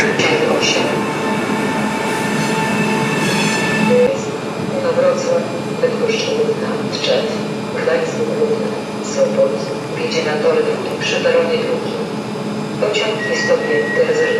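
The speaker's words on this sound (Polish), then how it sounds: "Na peron czwarty B wjeżdża najnowsze dziecko kolei wielkopolskiej Elfba." A Pesa Elf electric multiple unit pulls into a platform at Poznań Główny station, a close, loud rolling rumble with squealing wheels and brake hiss. Someone talks over it.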